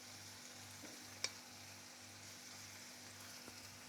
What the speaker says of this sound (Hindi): ये अच्छे तरीके से फ्राई हो रहा है।